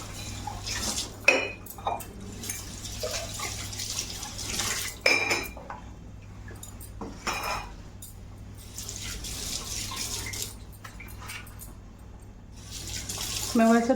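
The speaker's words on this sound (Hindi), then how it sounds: "सो गाइस, थोड़े से बर्तन है उसको धुल लेते हैं," Dishes, pots and cutlery clatter and clink in a home sink under running tap water, with scattered knocks over a steady hum and a low background drone.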